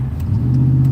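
Chevrolet Silverado truck's 6-liter engine revving at about half throttle, a loud, close, steady low engine hum that climbs slightly in pitch, with no talk.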